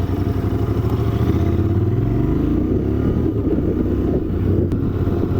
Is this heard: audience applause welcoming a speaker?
no